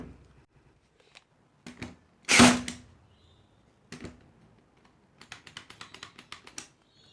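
A nail gun fires nails into 19mm pine until it runs empty: isolated sharp snaps spread through near-silence, one louder heavy thump, then a rapid run of light clicks at the end.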